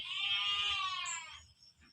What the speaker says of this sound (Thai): ลำคาญแพะซะแล้ว